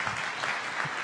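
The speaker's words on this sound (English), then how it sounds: "One more round of applause." A brief round of applause breaks out at a Rotary club meeting, a dense patter of many hands clapping at once for about a second.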